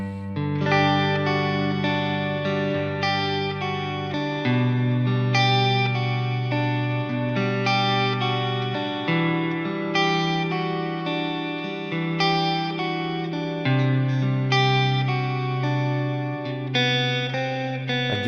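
An electric guitar repeats a chord motif while the bass note beneath it shifts, played with chorus, distortion and reverb effects as sustained, ringing, loud chords with no talking.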